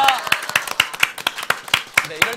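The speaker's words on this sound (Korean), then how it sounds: "이럴 때는 박수 같이 쳐주시는 거예요" A small audience at a K-pop group's meet-and-greet claps in a loose rhythm of separate hand claps, close by.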